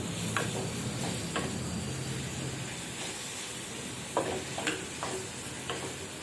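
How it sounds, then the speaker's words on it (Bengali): Onion and tomato cooking down in a pan, stirred with a spatula, giving a soft steady sizzle with irregular scraping knocks throughout. "একটু ভালোভাবেই নাড়িয়ে নেব যত সময় না পেঁয়াজ আর টমেটোটা গলে যায়"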